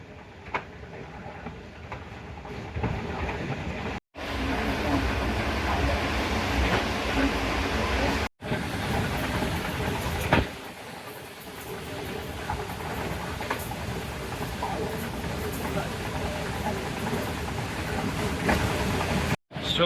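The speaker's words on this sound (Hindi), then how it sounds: "ये एक्स्ट्रा रैक जा रहा है किसी ट्रेन का।" An extra empty train rake passing by in Pakistan, heard from aboard a moving train: a steady loud rumble of wheels on track with faint rhythmic clicking, sustained for the full stretch with a couple of brief dropouts.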